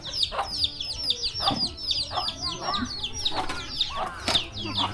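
Chickens cluck repeatedly close by in an evening village setting, with busy bird chirps layered over the scene and scattered rustling in the background.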